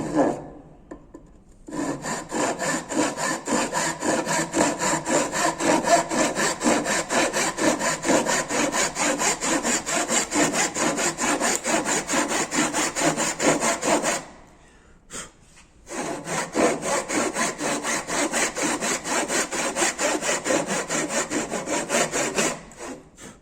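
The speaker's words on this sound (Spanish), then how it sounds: "Ajusto la prensa, comienzo el corte, perfilando la línea." A hand saw cuts through wood clamped in a vise for a tenon, with steady rapid back-and-forth rasping strokes that run loud and close, pause briefly, then resume in the same even rhythm.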